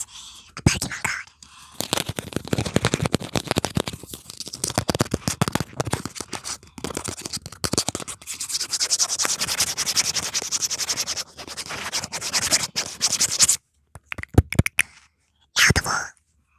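A Pokemon card is scratched and rubbed close to the microphone for ASMR, giving a long, dense run of dry scratching and rustling texture that stops and starts in short bursts near the end.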